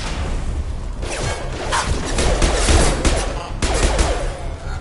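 Heavy, sustained gunfire in Mass Effect 2 as security mechs close in, loud overlapping bursts with booming impacts and sharp whooshes, no voices over it.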